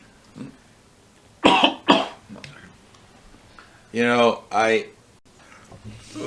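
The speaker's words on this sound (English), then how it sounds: "Sorry about that. I'm a coughing fit." A burst of harsh, close coughs comes in quick succession, followed by a couple of strained voiced throat sounds, with quiet pauses in between.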